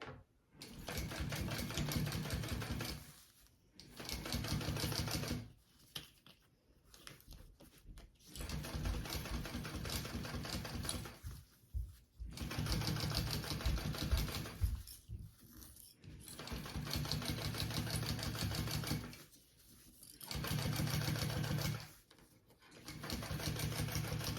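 A sewing machine stitches along the bottom edge of fabric for a crossbody bag, running in steady bursts of several seconds each, separated by short pauses, close and alone.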